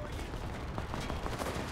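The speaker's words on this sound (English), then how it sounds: "So many gunshots." Dense, continuous gunfire from the video game Enlisted, rapid shots and bursts layered over each other at steady loudness.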